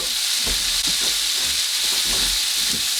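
Vine tomatoes sizzling in a little oil in a pan, a loud, constant hissing sizzle with soft low bumps and shifting underneath, steady and close throughout, no voices.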